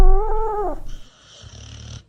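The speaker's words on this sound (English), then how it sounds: "A dog snoring." A dog snoring in a short burst: a brief rumbling, purr-like snore that fades out, then a quieter, softer breath.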